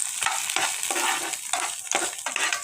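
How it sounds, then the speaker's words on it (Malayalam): Stirring a coconut mixture in a pan while cooking a homemade evening snack: a steady fry-sizzle with repeated scraping strokes of the spoon, close and fairly loud, without talk. "അതൊന്ന് ഇളക്കി കൊടുക്കാം"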